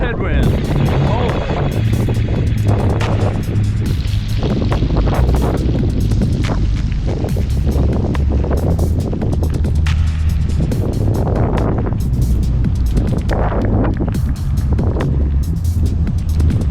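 Heavy headwind buffeting the microphone on a bicycle ride around town, a loud continuous roar with gusty surges, and a voice speaking over it.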